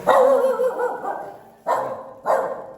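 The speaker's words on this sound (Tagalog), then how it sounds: "Aso." A dog barks close by, a burst of rough barks followed by two more sharp barks a moment apart.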